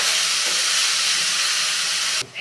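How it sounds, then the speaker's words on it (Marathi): Chopped vegetables sauté in a hot mustard-seed tempering for rava appe, a loud continuous sizzling hiss close up that cuts off abruptly just before the end. "दोन ते तीन मिनटे ह्या भाज्या आपण छान फोडणीमध्ये परतून घेऊया"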